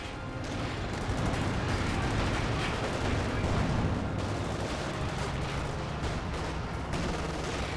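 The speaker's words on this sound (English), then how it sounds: "Good fragmentation grenade there." Dense battle noise from a Company of Heroes 2 match, with a fragmentation grenade blast buried in continuous rattling gunfire and booming artillery, loud and sustained throughout with no pauses.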